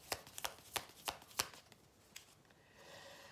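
Belline oracle cards being shuffled for a new draw: a handful of crisp, sharp riffling snaps in quick irregular succession, close and clear, then fading into quiet room tone.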